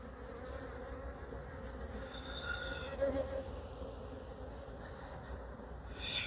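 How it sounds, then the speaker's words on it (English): Honeybees shaken off a hive frame during a European foul brood check make a steady, dense buzzing hum throughout, close and even, swelling slightly at moments without any talk. "I'm going to shake the bees off"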